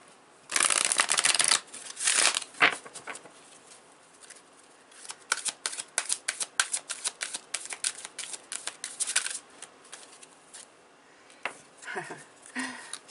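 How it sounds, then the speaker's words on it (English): Numerology cards shuffled and drawn during a spiritual card reading: two brisk riffling bursts up close, then a long run of quick, crisp card snaps and flicks. "I'm going to take a numerology card right here"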